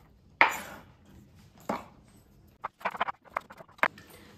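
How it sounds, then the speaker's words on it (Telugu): Knife chopping tomatoes on a cutting board in a home kitchen, a few separate sharp cuts followed by a quicker burst of light, uneven taps, close and fairly soft. "టమాటా కూడా కట్ చేయడం అయిపోయింది."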